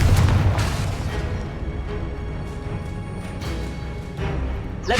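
The Confringo fire spell in Hogwarts Legacy goes off as a booming blast followed by rolling rumbles and a few scattered pops, with another sharp burst at the end.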